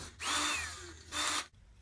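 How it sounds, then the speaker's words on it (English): Power drill boring holes along the edge of a truck bed cap opening, with the work braced over a 2x4. Two close, loud whirring bursts, the first longer and winding down before the second. "drilled the holes over a 2x4"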